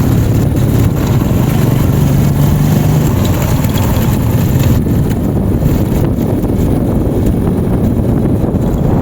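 A steady motorboat engine drones close by on a trip toward a cave in Maasin City, mixed with rushing wind buffeting the microphone throughout.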